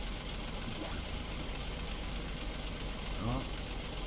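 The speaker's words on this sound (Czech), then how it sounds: "Zapneme mu motor." A truck engine idles steadily in the SnowRunner video game, a constant low, even rumble throughout with someone speaking briefly over it.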